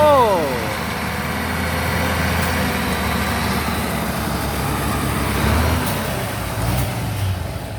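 A Deca 195 truck engine revs with the accelerator only partly pressed, producing a loud, steady low rumble that swells slightly near the end.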